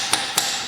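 Two sharp metallic hammer taps on a bolt at the rear knuckle of a 2020 Jeep Cherokee, spaced about a quarter second apart, close and distinct over a quiet workshop background.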